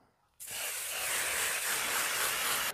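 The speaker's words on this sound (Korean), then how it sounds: "빵틀에 식용유 발라줍니다." Cooking oil sprays onto a baking pan before scone batter goes in, making a close, steady hiss that starts suddenly after a quiet moment and runs for a couple of seconds.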